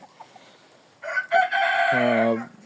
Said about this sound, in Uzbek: katta xo'rozini qarang kattaligini